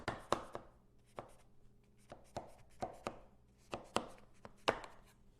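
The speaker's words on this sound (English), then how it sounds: "I'll cut those in half" A knife chops through a spinach pie in sharp, distinct knocks against a board, about a dozen close taps in an irregular rhythm over a quiet background.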